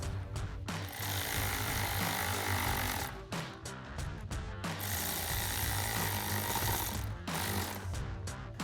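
Bolt and clamps get tightened on a cold air intake in a Ford Bronco engine bay, a close, loud, buzzing ratchety mechanical rattle in two long bursts separated by brief pauses, with no talking.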